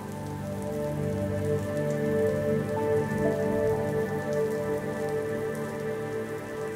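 Gentle rain patters steadily on a surface, soft and continuous, with no other sounds.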